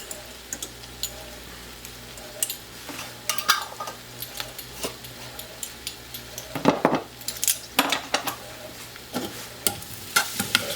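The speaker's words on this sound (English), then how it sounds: "Stir it in." A spoon stirs cinnamon into a mixture in a bowl, giving irregular scraping swishes and light clinks against the side, close and moderately loud with no talking.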